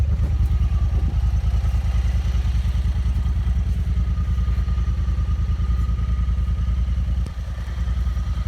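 A Honda Talon X4 SE side-by-side idles steadily up close, a low continuous engine rumble with faint clatter and a brief dip near the end, no talking over it.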